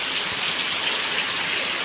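Heavy rain pours steadily on a village, a dense continuous hiss of drops striking surfaces with no pauses and no voices.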